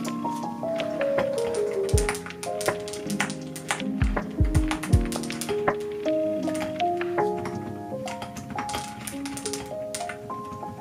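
Steady typing on a keyboard while writing a book, rapid irregular key clicks with occasional heavier taps, close and fairly quiet, running throughout without talk.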